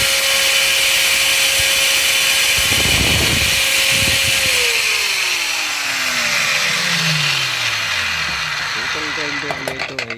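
A DCA angle grinder being repaired with a replaced switch whines at a steady high pitch, then spins down as its tone slides lower. Someone talks over the motor.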